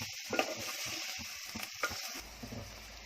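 A spice masala with fresh coriander is roasted in a pan for Maharashtrian kothimbir vadi, giving a faint crackling sizzle with a few light stirring scrapes, quiet and close, with no speech.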